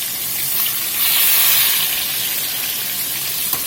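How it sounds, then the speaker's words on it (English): Catfish frying in hot oil makes a loud, dense, steady sizzle with bright hissing and scattered pops that swell slightly in the middle, with no voices over it. "We're just going to let this fry off here about a minute."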